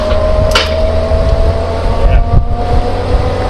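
A 1967 Mercedes-Benz 280 SL Pagode engine runs steadily at close range, a constant low rumble with a faint tonal hum and some wind buffeting over the microphone.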